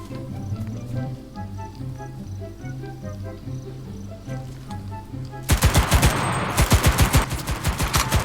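Gunfire in the video game CRSED: F.O.A.D. bursts in suddenly as rapid, loud automatic shots after a stretch of quieter game music and ambience, continuing in dense repeated volleys to the end.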